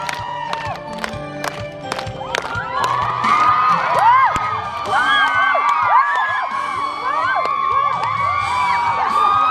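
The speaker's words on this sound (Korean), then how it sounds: "박수!" A crowd at a riverside busking show along the Han River cheers, whoops and claps, starting with scattered sharp claps, then swelling into loud sustained shouting and high excited cheers.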